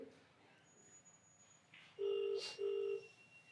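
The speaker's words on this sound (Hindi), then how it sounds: "ये व्यक्ति फोन नहीं उठा रहा है।" A telephone call rings out unanswered, with two loud electronic ring tones in quick succession following a quieter stretch of faint background noise.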